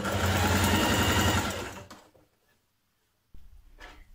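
A domestic sewing machine runs steadily, stitching bias binding around the armhole of a blouse, loud and close for nearly two seconds before stopping, followed by a short handling clatter near the end.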